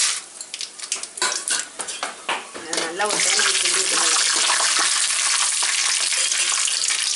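Chana dal sizzling in oil as a metal spoon scrapes and clanks against the pan while cooking for tamarind rasam, a brief word spoken over the steady hiss of frying.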